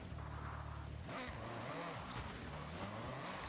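Car engine revving hard in Forza Horizon while popping wheelies, shifting pitch up and down through gear changes with tire squeal, loud and continuous.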